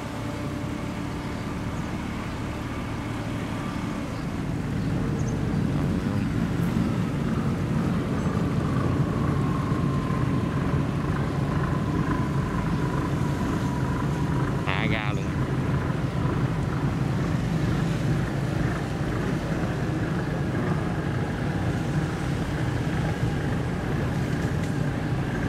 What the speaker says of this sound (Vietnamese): Rồi trên kia thì tàu biển đi xuống luôn rồi các bạn.